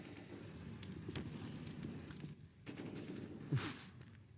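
Rapid bursts of gunfire during a professional Counter-Strike match on the Overpass map, a rattling automatic spray followed by a sharper single shot, heard fairly faint through the game mix.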